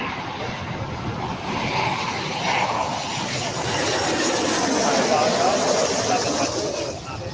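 Southwest Boeing 737-800 near LAX, a continuous broadband jet roar that builds gradually and holds, with voices speaking over it.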